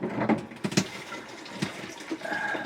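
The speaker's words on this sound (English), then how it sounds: "So let me put some diesel in." Diesel fuel is poured into the tank of a compact Hcalory toolbox diesel heater, giving a soft, uneven trickling and splashing that comes close, with a few louder gurgles early on.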